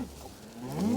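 Cattle on a farm, a bull among cows, moo with a drawn-out, rising low call that swells louder toward the end, close by and clear with no talking over it.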